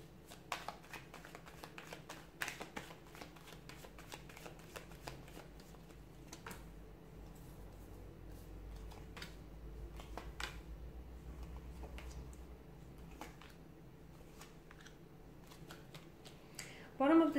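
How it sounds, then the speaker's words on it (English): A deck of tarot cards being shuffled, giving repeated soft riffling and snapping clicks spread evenly across the stretch, faint and close, with a low steady background hum and no talking. "give the cards a shuffle"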